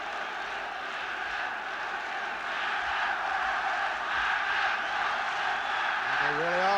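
A Northern Ireland football crowd roars in the stadium during a match against England: a steady, distant wash of massed voices that swells slightly toward the end.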